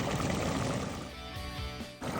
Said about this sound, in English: I'm going to add this glass of water